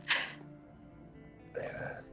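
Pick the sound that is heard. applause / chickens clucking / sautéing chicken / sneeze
sneeze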